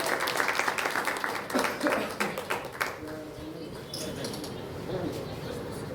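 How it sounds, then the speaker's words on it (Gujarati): An audience applauds at a Gujarati poetry gathering, a burst of dense clapping that thins and fades after a few seconds, followed by murmuring and a voice in the hall. "એક વખત જોરદાર તાળી."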